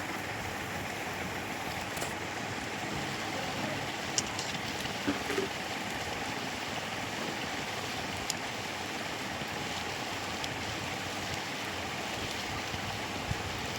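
Tal bora, palm-fruit batter fritters, fry in hot oil with a dense, steady bubbling hiss and a few faint clicks of gentle stirring.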